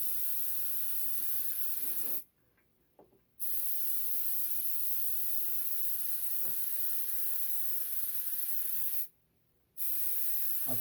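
Airbrush spraying paint onto a latex foam prop: a continuous, close hiss that stops briefly twice as the trigger is released, with no talking.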